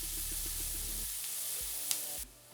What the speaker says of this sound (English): Now we're gonna add the onion. We wanna cook the onion just till it's about softened.